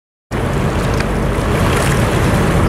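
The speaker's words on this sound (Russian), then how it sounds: "На пароме едем." Ferry crossing a river in strong wind, with a steady loud rush of wind buffeting the microphone over low water and engine rumble, continuous from start to end without speech.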